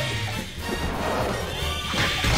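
Pottery smashing in the Sonic Unleashed video game on Xbox One, a loud crash over busy game music and effects lasting a couple of seconds.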